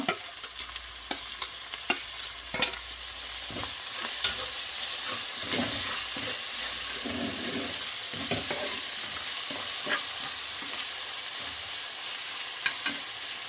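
Chopped large tomato frying and sizzling in oil in a pan for bachelor-style mutton biryani, with steady crackle and occasional stirring scrapes close up, no talking.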